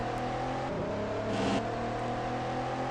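Engine of a car in Car Parking Multiplayer revving hard with quick gear shifts, a steady whirring drone that dips briefly and surges again, loud and continuous with no talk.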